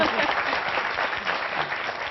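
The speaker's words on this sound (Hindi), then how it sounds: "जोरदार ताली हो जाए" Audience applause in a Hindi TV news studio discussion: a dense, steady round of clapping from a studio crowd lasting about two seconds, with voices faintly beneath it.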